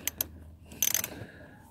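A ratchet fitted with a T50 bit loosens a seat bolt on a Ford Transit Connect, making a few short, close mechanical clicks and then a quick rattling burst of ratchet clicks.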